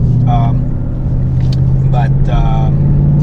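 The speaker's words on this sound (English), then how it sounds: "Okay, so the idle is a little bit different. It's a bit rougher." A Ford Mustang Mach 1 engine idles roughly on E85 fuel, a steady low rumble that continues under a voice talking over it.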